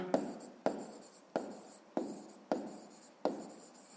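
Chalk tapping and scraping on a school board during a fifth-grade math lesson, six evenly spaced sharp strokes each trailing off into a scratchy drag, close and clear with no talking.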